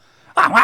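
A man imitates a dog barking during a church sermon, giving two short, loud, voiced yelps in quick succession after a moment of quiet.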